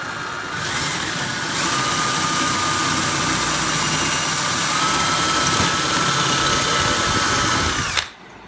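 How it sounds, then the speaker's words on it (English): A steady, loud power drill with a masonry bit whines continuously for several seconds, grinding into coral rock, then cuts off abruptly near the end. "All you use is a masonry bit and a drill."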